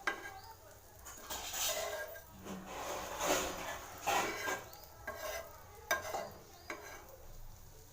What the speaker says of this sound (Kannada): ಸ್ವಲ್ಪ ಶಾಲು ಫ್ರೈ ಥರ ಮಾಡ್ತೀನಿ.